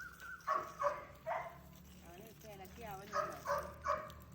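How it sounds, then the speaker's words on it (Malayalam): A dog whimpers and yips in short, high-pitched cries, several in a row, with people talking nearby. "ആ പട്ടി തന്നെ ഇവിടെ കരയുന്നു"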